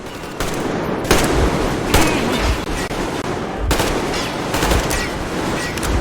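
Automatic gunfire in the shooter Metro Exodus at Yamantau, several loud bursts with sharp onsets about a second apart, rattling and echoing over a dense battle din.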